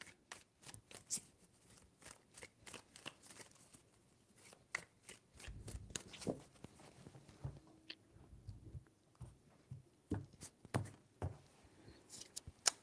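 Tarot cards shuffled by hand in a series of crisp riffling bursts and soft flicks, close and moderately quiet, with no talking.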